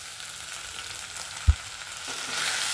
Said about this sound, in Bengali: পোস্ত দিয়ে ভালো করে মা নেড়ে নিচ্ছে।